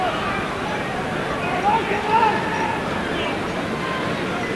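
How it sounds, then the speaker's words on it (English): Steady crowd roar fills the football stadium at Windsor Park during a Northern Ireland versus Austria Euro 1996 qualifier, a constant distant hubbub under a commentator's voice. "Well, there's the crowd, as I said."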